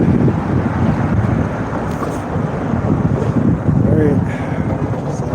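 Strong outdoor wind buffets the microphone in a continuous low rumble that swells and eases, while a person talks underneath it.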